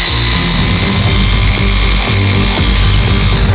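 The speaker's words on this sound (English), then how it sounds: "Yes, we can undrill the bolt." A power drill fitted with a socket spins steadily to loosen a bolt, its loud continuous whine and grinding buzz running unbroken throughout with no talk.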